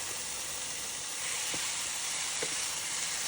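Filling for Vietnamese-style steamed rice dumplings is stir-fried in a pan with soy sauce, seasoning powder and sugar, giving a steady close sizzle and hiss with a couple of faint utensil clicks.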